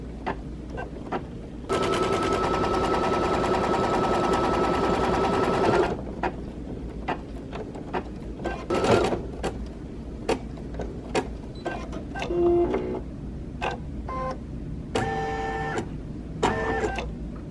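An embroidery machine stitches a Christmas advent calendar design, running with a steady mechanical whir for about four seconds, then scattered clicks, taps and short motor bursts follow.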